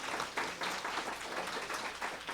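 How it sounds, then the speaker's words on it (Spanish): Audience applause at a heritage tourism lecture event in Chihuahua, a steady wash of many hands clapping at moderate level, fairly even throughout with no voices over it. "un aplauso por favor"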